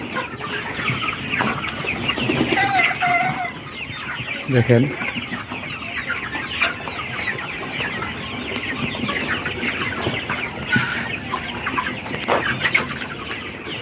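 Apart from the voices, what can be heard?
Sonali High Super Plus chickens clucking on a farm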